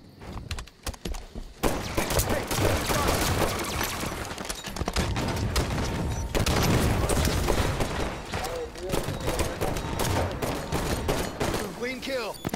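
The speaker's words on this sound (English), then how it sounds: "their team shooting like crazy now." Heavy enemy gunfire in Halo 5 multiplayer, a dense, continuous barrage of rapid shots and impacts that runs almost the whole time, with players talking excitedly over it.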